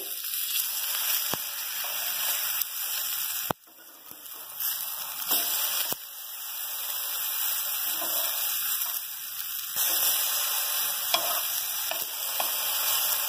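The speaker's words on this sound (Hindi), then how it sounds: "अभी ये एक साइड से फ्राई हो रहे हैं अब हम इसको पलट देंगे" Eggplant pieces for dahi baingan frying in oil in a pan, a continuous loud sizzle with a few sharp clicks and scrapes as they are turned.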